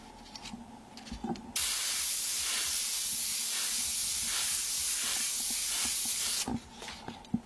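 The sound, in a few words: wide spray applied onto both rolls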